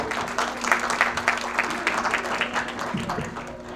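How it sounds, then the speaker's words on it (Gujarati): An audience at a baby shower celebration in Canada breaks into a burst of clapping, a dense, lively patter of many hands that holds steady throughout and fades slightly near the end. "તાળીઓના ગડગડાટ થોડા કરો."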